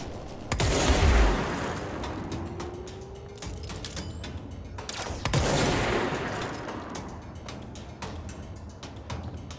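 Enemy gunfire aimed at the player in the video game Control, two loud close bursts of shots near the start and midway, separated by rattling, crackling combat noise and a faint whooshing streak.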